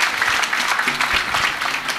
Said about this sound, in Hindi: तो कृपया तालियां दिल खोल के बजाएं।